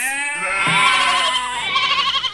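A sheep bleating as a storybook sound effect, one loud, close, wavering bleat that rises and trails off, alone with no talk.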